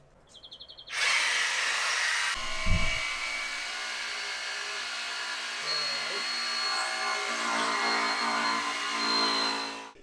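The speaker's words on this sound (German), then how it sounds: "Nehmen wir diese Stichsäge hier." A jigsaw starts up and buzzes steadily at close range for about nine seconds while cutting a hole in a camper table top, with a brief thump early on.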